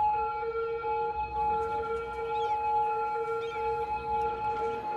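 Ambulance siren in the Cities: Skylines city-building game, a steady sustained electronic wail with stacked tones holding continuously over a low background hum.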